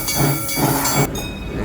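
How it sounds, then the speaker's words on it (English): The Boss, a wooden roller coaster at Six Flags St. Louis, sends its train rumbling and clattering past beneath a bridge, loud and close for a brief moment before the rumble falls off. "for the boss, you have a train that passes underneath us"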